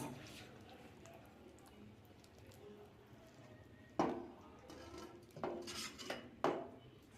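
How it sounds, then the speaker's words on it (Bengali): Shol fish curry cooked with bottle gourd is tipped out of a metal pan, giving a few scraping clinks and wet slides of metal on metal in three short bursts near the end. Quiet kitchen background comes before them. "এবার মাছটা ঢেলে নেব"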